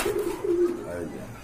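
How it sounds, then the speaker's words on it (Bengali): Pigeons, a hen among a breeding flock of quality fancy pigeons kept for eggs and chicks, give soft throaty coos in a short rhythmic series, close and clear with faint background noise. "এই যে এটা হচ্ছে আপনার মাদি কবুতর"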